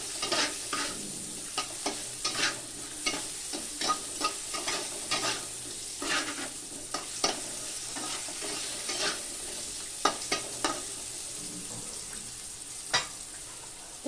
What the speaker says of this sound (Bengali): হলুদ আর লবণ দিয়ে আলুটাকে একটু ভেজে নিতে হবে